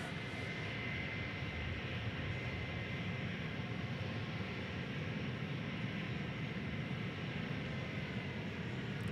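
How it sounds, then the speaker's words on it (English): An Airbus A321 departing from a runway at DFW airport, a steady broad engine roar heard from a distance, even and sustained throughout with no voices. "flight number 2767 going to Seattle, Washington, an Airbus A321. The next departure here on Runway DFW"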